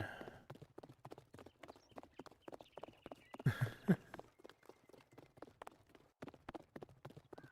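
Horse hooves clip-clop steadily in the survival video game 7 Days to Die with a Viking mod, a quiet even rhythm of hoof falls throughout, briefly joined by a louder thump or snort near the middle.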